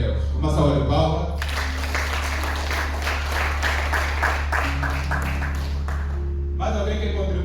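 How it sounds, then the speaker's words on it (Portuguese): A church congregation applauds together, a sustained wash of many hands clapping at moderate distance under a steady low hum, bracketed by a preacher's voice before and after. "Uma salva de palmas."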